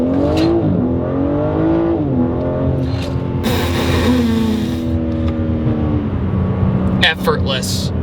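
A 2025 BMW M3's engine and exhaust rev and accelerate with a smooth, harmonic tone, rising and falling in pitch across several pulls, with a voice speaking over it.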